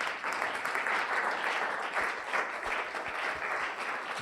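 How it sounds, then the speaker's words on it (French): A church congregation at a Sunday praise and thanksgiving service bursts into dense, sustained applause, many hands clapping together in a continuous roar with faint cheering mixed in. "Est-ce que tu peux acclamer très fort pour le Seigneur?"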